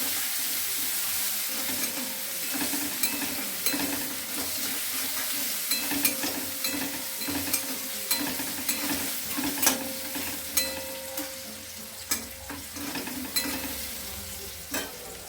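A vegetable manchurian mixture fries in a pan with soy sauce and salt while it is stirred, giving a steady close sizzle broken by repeated scraping and clinking strokes of a spatula against the pan.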